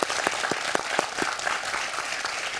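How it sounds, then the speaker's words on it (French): Studio audience applauding on the French TV quiz show Questions pour un Champion, a steady wash of clapping with a few sharper individual claps standing out, moderately loud, no talk over it. "oui, on peut l'applaudir, vous avez raison."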